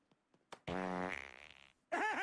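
A loud, drawn-out fart with a buzzing, sputtering tone, preceded by a few faint taps and followed by a second short, bubbly burst, heard up close.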